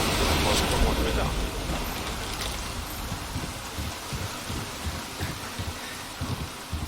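Steady rain in the video game Resident Evil 4, a dense hiss that is loudest at the start and then eases, with scattered thuds and game sounds underneath and someone talking over it.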